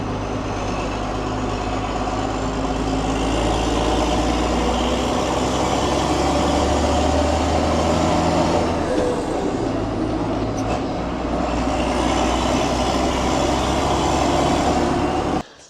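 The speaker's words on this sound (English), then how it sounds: "the cross pipe from the turbo to the exhaust stack is blowing on the old Fastrac" An older JCB Fastrac tractor runs steadily with a leaking turbo-to-exhaust cross pipe, giving a loud, continuous engine drone with low rumbling tones and a breathy exhaust hiss that cuts off abruptly at the end.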